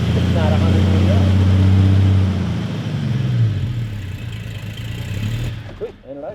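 A Jeep XJ engine idles loudly at first, its low rumble easing and fading toward the end, with people talking over it.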